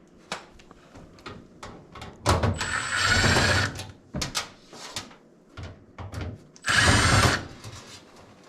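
Power drill backing screws out of the blower plate on a Frigidaire FGMV17WNVFA over-the-range microwave, two loud whirring bursts of about a second each amid scattered clicks and handling clatter.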